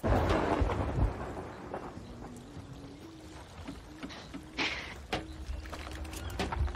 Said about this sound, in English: I hear a storm is a-brewing.